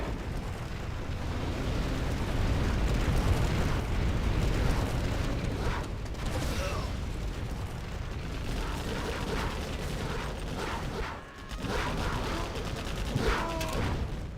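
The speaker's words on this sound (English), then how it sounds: "TNT here from Logica" A TNT blast in a competitive strategy video game match, a dense roaring burst of explosions and gunfire-like crackle that fills the clip at steady loudness, with a sharp brief dip and renewed blasts near the end.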